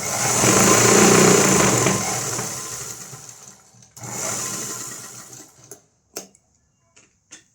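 Electric sewing machine stitching a blouse runs steadily for several seconds, slows and stops, restarts briefly, then gives a few short isolated bursts and clicks, close and loud with no talk.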